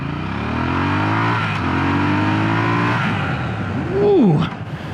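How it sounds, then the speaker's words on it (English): A Triumph Scrambler 1200 motorcycle accelerates hard from a standstill toward 60 mph. The engine note rises sharply, breaks off at a gear change, then climbs again, and a short vocal exclamation follows near the end. "I might be a bad kid and do a 0 to 60 over here."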